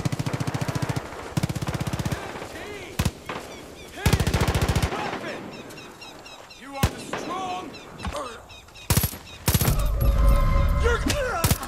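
Automatic weapons fire rattles in long, loud bursts during Far Cry 5 gameplay, with single shots and heavy blasts breaking up the stretches of sustained fire.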